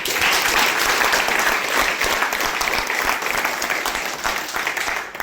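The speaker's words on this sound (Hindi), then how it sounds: "साहब के लिए जोरदार तालियां।" A room of people at a real-estate sales meeting breaks into loud, sustained applause for a salesman, dense steady clapping with little talk.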